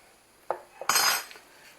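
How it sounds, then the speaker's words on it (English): A spoon stirs pasta in a metal pot, giving a brief scrape and clink followed by a short burst of rattling, fairly close and moderately loud. "Give this a stir."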